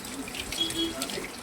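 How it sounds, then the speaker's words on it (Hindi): Water is poured into a heavily iced-up freezer to melt the buildup, a soft steady trickle and splash heard up close for a brief moment. "पानी डाल रहे हैं इसमें, बहुत ज़्यादा जाम हो गया पूरा, बर्फ ही बर्फ।"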